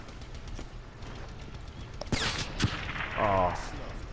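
Sniper rifle fire with a rapid fire attachment from a video game: a sharp gunshot and then a second shot, followed by a rattling burst, all under background game noise.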